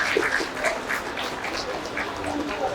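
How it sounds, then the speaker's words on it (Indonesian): Seminar audience in an education talk applauds, a dense spread of clapping at moderate level with no voices over it. "Tepuk tangan yang meriah Bapak dan Ibu."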